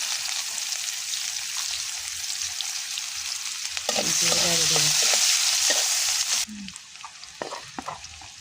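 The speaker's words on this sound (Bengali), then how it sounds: "এই যে পেঁয়াজ মরিচ ভাজা হয়ে গেছে" Onions, chilies and bay leaf fry in hot oil in a pan, giving a steady loud sizzle broken by scraping stirs, with one surge of hissing midway before it settles again.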